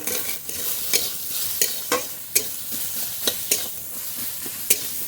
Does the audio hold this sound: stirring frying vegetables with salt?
yes